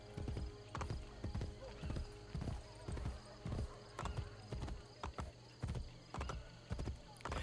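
Horse hooves clip-clop in a steady, rhythmic gallop in the Assassin's Creed video game, loud and close throughout, over a low continuous background rumble with no speech.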